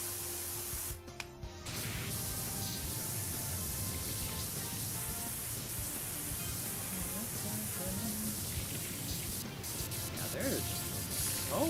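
Steady hiss of a pressure washer spraying through a nozzle while cleaning a frame and wheel in a game, a continuous broadband rush that runs nearly unbroken, with faint voice in the background.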